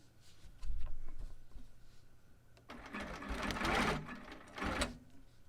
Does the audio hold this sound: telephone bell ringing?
no